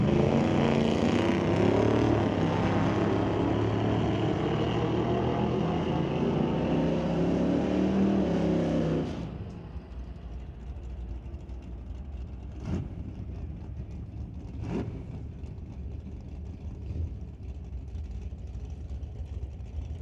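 A 1969 Acadian drag car in qualifying roars down the racetrack, loud and sustained engine noise for several seconds before cutting away, leaving faint distant rumble with a couple of brief sharp clicks.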